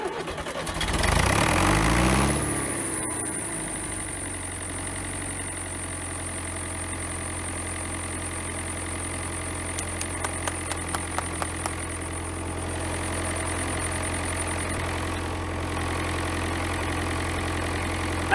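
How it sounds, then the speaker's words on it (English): A David Brown tractor engine just after a fuel filter change, cranking briefly then catching and settling into a steady idle, with a few faint ticks midway while it keeps running alone. "And now let's see if we can get this thing cranked."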